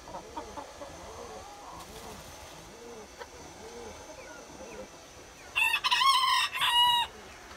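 Chickens in a coop including a Denizli chicken, quiet clucking throughout, then a loud rooster crow near the end in two bursts.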